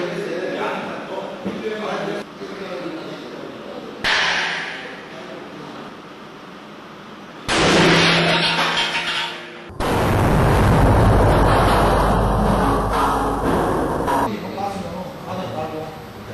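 Portable gas stove explosion test with an ordinary gas range: several loud bursts and a long, roaring blast that rumbles for several seconds, with talk before it.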